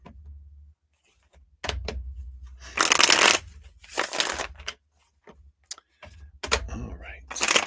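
A deck of cards shuffled near the microphone in several loud bursts of riffling and flapping, separated by short quiet gaps and single sharp taps as the deck is squared.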